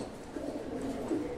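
Pigeons coo in a low, steady, rolling murmur that runs throughout, moderately close, with no talk over it.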